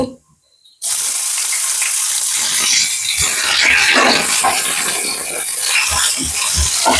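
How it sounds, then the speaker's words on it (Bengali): Chopped onion hits hot oil with a bay leaf in the pan for a spicy meat ghugni, bursting into a loud, steady hissing sizzle after a brief near-silent moment, close and unbroken. "তেজপাতা দিয়ে দিলাম গরম করছে পেঁয়াজ কুচিটা দিচ্ছি"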